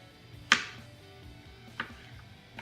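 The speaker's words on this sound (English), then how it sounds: "So then you'll just want to cut it in slices" A knife slicing nectarines on a cutting board, two crisp, close cuts about a second apart over a quiet room background.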